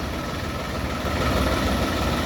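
A Solis 50 tractor engine idles steadily nearby, a constant low rumble with mechanical vibration and no change in pace or any talk over it.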